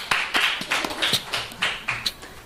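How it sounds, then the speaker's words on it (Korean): Several quick hand claps in a row, about eight sharp taps spread evenly across a couple of seconds, close and fairly loud with no talking, like a small group clapping at a lively family gathering. "박수"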